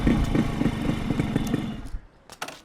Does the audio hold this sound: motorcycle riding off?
yes